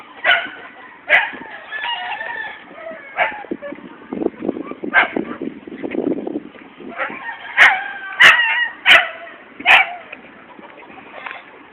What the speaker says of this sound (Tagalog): Ang aso, oh.